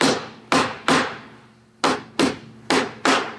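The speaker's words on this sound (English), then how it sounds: "So we're going to put the dowels into the gables first. Take your trusty mallet and hit them in if you need to." A mallet strikes wooden dowels into the side panels of an IKEA Ivar cabinet: seven sharp, close wooden knocks in uneven pairs and singles, each ringing briefly before fading, with no talking.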